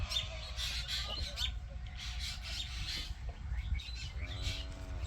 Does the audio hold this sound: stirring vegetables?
no